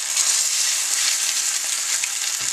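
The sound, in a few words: Safeway marinara chicken frying in a stainless steel pan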